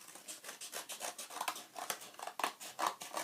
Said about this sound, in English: we are now going to cut along these lines that we have drawn